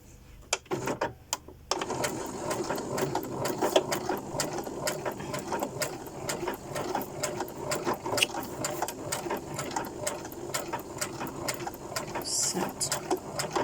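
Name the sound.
sewing machine sewing ribbon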